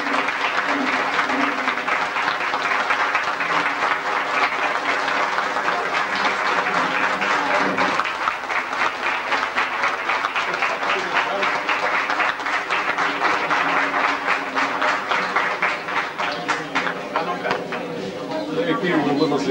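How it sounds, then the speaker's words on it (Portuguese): Sustained applause from a crowd of staff and students at a 1996 annual reunion of a Portuguese industrial and commercial school, steady and dense throughout with voices mixed in. "uma verdadeira salva de palmas e um grande agradecimento"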